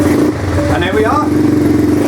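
A pitbike's small engine turning over and catching after a wash, running with a steady close chugging idle and a brief rev, while someone speaks over it.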